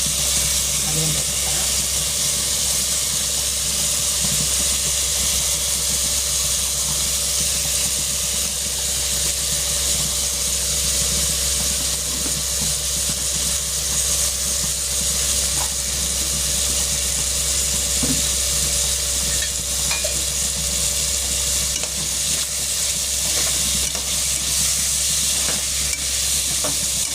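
Ginger garlic paste, a green chili, cinnamon and fennel sauté in a pan with a constant loud hiss and sizzle, a steady hum beneath and occasional faint scrapes.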